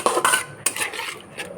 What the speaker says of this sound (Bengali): ভালো করে মিক্স করে নিয়ে ভালো করে কষিয়ে নেব।